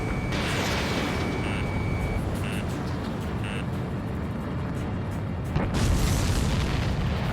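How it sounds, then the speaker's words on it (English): A dense, rumbling roar fills the scene in Ace Combat 7: Skies Unknown, with beeping tones early on and a louder booming burst near the end, like a distant explosion. "Did you see that explosion?"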